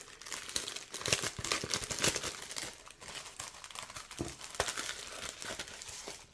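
Plastic packaging around scrapbooking supplies such as tags, cards and bookmarks is opened up close, with irregular crinkling and crackling bursts of varying loudness over about six seconds.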